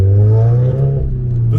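Audi S3 with a manual gearbox pulling hard under throttle in second gear from around 3000 RPM, a loud rising engine drone heard from inside the car, alone with no talk.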